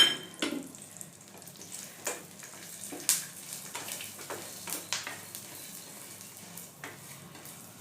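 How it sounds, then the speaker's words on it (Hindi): Melon seeds roasting in a little ghee give off faint, scattered crackles and pops against a soft sizzle, with occasional stirring scrapes. "इसमें से चट-चट की आवाज़ आ रही है, यानी कि अब ये भूनने पर फूल के"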